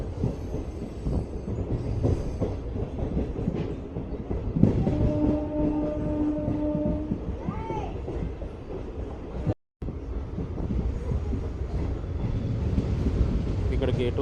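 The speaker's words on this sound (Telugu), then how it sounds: "మన ట్రైన్ అయితే మెల్లిగా లూప్ లైన్లోకి అయితే వెళ్ళిపోయింది." A MEMU passenger train rolls slowly into a station loop line, with a steady rumble and wheel noise throughout, a sustained horn-like tone midway, and wind buffeting the microphone.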